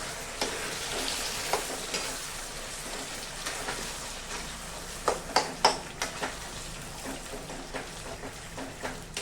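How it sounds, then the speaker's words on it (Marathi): Amla chyawanprash mixture cooks and is stirred in ghee, a steady soft sizzle with a scattering of sharper pops and scraping stirs near the middle and end, close and fairly quiet, with no talking. "याच्यामध्ये छान असा शिजवून घ्यायचा तुपामध्ये"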